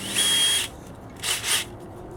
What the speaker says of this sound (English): I need to drill 1/4-inch holes for this.